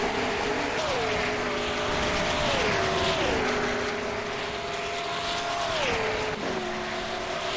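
SRM Hypercar race cars battle side by side at Mount Panorama in the rain, engines droning loud and close with pitch dropping through downshifts into a turn, several cars overlapping in a sustained roar.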